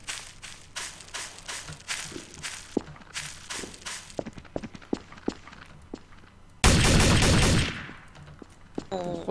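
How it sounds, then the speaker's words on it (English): Gunfire in the game TTT comes as a series of sharp, repeated shots, some in quick bursts, mixed with footsteps, then a loud sustained blast of noise near the end. "he keeps shooting me and like he just runs away"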